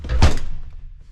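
A Kenworth K100 truck door slams shut with one loud, close, heavy thunk that dies away quickly, with no one speaking.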